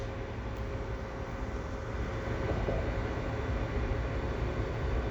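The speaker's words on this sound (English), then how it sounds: "I've got a slow moving train here." A slow-moving CSX westbound freight train creeps past at the Dorval ramps in winter, a low continuous rumble and rolling noise at moderate distance, with no talking.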